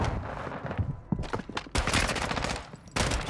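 Shooter video game gunfire crackles in rapid bursts of loud automatic fire, with dense volleys broken by brief pauses and a heavy renewed barrage near the end.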